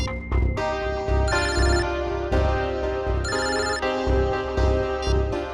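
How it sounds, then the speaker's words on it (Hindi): A telephone ringtone plays on and on, a loud, repeating electronic melody with steady pulses and no talking over it. "मैं अभी नम्रता को फोन करता हूँ।"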